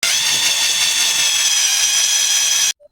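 An ordinary power drill whines steadily at high speed, close and loud, running continuously for a few seconds before cutting off abruptly, during tree grafting.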